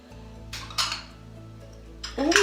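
Small ceramic dishes from a teacup set clink as they are handled, a few light bright clinks spaced apart with a louder cluster of rattling contact near the end, close by and otherwise quiet.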